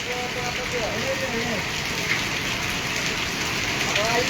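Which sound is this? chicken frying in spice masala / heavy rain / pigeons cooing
heavy rain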